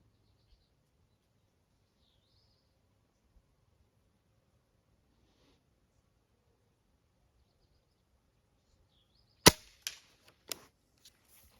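After a long near-silent stretch, a few sharp air rifle pellet impacts (H&N Baracuda Match) crack on a board target, one loud hit followed by two or three quicker, fainter ones.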